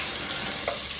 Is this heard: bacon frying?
yes